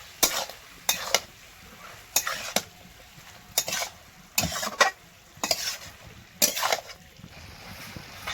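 Mixed winter vegetable curry being stirred in a pan, with a spoon scraping and clattering in regular bursts about once a second over a faint background sizzle.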